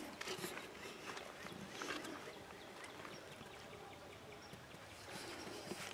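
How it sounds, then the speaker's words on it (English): Water runs steadily behind a small door along a suburban walking route, a continuous soft rushing with faint trickling that stays fairly quiet. "I can hear water running in there."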